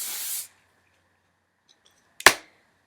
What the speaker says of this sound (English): So I'm going to run some hairspray into it.